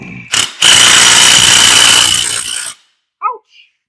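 An impact gun with a Torx bit socket works on the engine of a 2008 BMW 650ci, giving one loud, continuous rasping burst of about two seconds after a short opening rattle, then a few faint squeaks.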